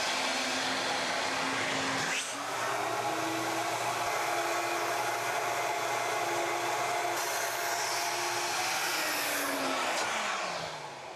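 A Ruwac Red Line industrial vacuum switching on, its motor running as a loud, steady whine and roar. The pitch shifts as the inlet is closed off, then begins winding down near the end.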